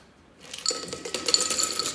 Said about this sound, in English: Ice our glass.